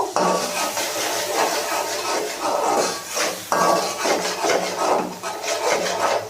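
A wooden spatula scrapes and rubs loudly and continuously against a pan as spices with turmeric and chili powder are sautéed, the strokes repeating in an uneven back-and-forth rhythm.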